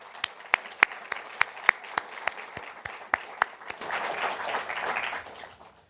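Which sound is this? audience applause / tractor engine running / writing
audience applause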